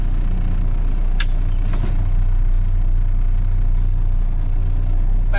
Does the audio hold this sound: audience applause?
no